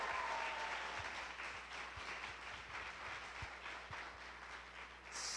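Audience applause after school family weekend performances, a steady wash of many hands clapping at moderate distance, sustained throughout with a few sharper individual claps and a low constant hum beneath.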